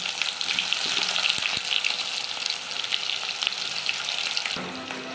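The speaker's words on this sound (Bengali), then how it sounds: "হালকা আমার পেঁয়াজ ভাজা হয়ে গেছে" Onion fries with whole cumin seeds in oil left from frying prawns, a dense, loud, close sizzle that runs steadily with a couple of clicks before easing off near the end; no speech.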